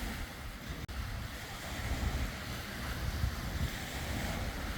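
Ocean waves and surf on a beach, a steady, fairly faint wash of breaking water with wind noise and no voices.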